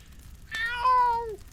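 A person mimics a cat with one drawn-out, rising and falling meow of about a second, clear and alone against quiet room noise.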